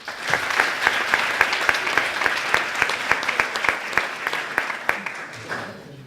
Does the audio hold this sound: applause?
yes